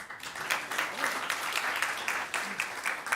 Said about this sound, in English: I like the applause for all the guests